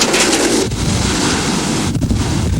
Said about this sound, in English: The pounding waves and the heavy winds quickly took their tolls